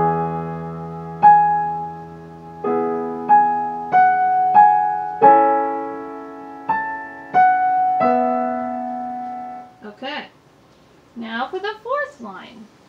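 Solo piano plays a slow measure from the Adagio sostenuto of Rachmaninov's Piano Concerto No. 2, sustained chords struck one after another for about ten seconds, then a voice starts talking.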